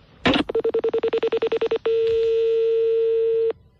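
A telephone being dialed: a short click, then a rapid series of about a dozen evenly spaced dialing beeps, followed by a long steady ringback-style tone, loud and close with no talking.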